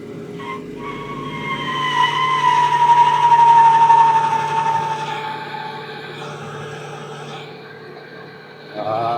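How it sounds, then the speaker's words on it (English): A car with a two-valve engine does tire burnouts. Squealing rubber swells to a loud peak and fades over an engine drone, and a brief revving burst comes at the end. "we are going to leave you with some very unimpressive 2-valve burnouts"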